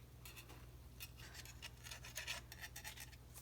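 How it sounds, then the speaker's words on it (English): A fingernail file rasps against a small clay ornament in quick, repeated short strokes, faint and close, with no talking. "I'm using a fingernail file."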